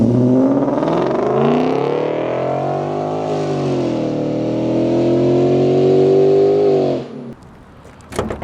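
A Lexus LS460 with PPE headers revs loudly and steadily up close, the engine note rising and holding for about seven seconds before cutting off, followed by a couple of brief clatters.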